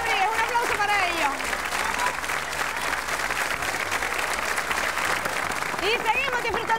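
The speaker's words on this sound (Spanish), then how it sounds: "Un aplauso para ellos." An audience at a New Year's Eve show applauds loudly and steadily while a voice speaks over the clapping.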